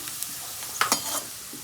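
Steady sizzle of cumin seeds frying in hot oil, with a few brief stirring clinks and louder crackles near the middle; no talking.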